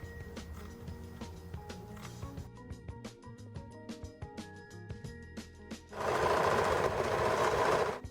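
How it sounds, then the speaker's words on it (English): A sewing machine stitches pieces of a bandana shirt in short, rapid bursts with clicks in between, then runs in one louder sustained stretch near the end, close and moderately quiet, with no talk. "Now the fun part, I'm gonna go sew all this stuff together."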